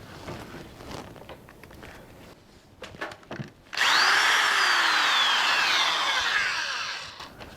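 An old corded power drill, a go-to tool for years, spins up after some handling clatter and runs loud and steady for several seconds with a whining motor pitch that rises and falls, then winds down near the end.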